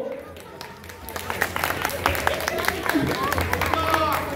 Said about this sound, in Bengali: আর একবার জোরে তালি হোক